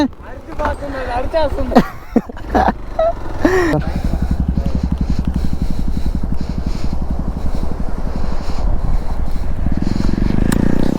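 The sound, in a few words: Hero Xpulse 200 4V motorcycle engine revved hard on beach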